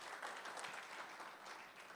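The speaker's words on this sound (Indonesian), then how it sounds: "Tepuk tangan buat Yesus, haleluya." A church congregation applauding during a worship service, a soft, steady wash of clapping that stays fairly distant and even throughout.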